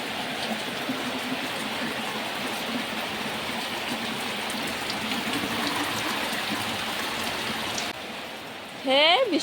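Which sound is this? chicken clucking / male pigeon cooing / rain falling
rain falling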